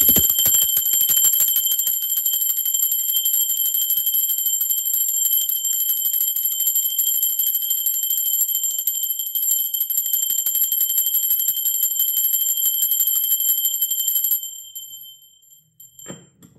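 A bell rung to open a tarot reading, its bright, sustained ringing tones holding steady for about fourteen seconds before fading away into silence, alone without speech.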